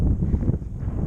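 Gusty wind on a hilltop buffeting the microphone, a loud low rumbling roar that rises and dips unevenly for about a second.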